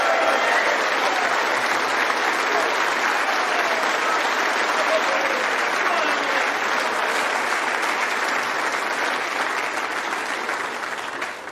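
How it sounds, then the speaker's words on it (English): Snooker final crowd gives the runner-up a huge, sustained round of applause, with dense, loud, steady clapping filling the hall and easing only slightly at the end. "Please give a huge round of applause."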